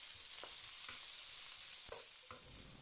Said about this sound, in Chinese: 把蒜和姜都倒进来，然后改成中小火慢慢的煸炒